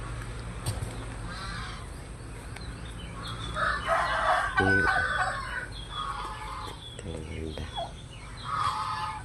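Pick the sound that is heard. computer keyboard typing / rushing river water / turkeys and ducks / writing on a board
turkeys and ducks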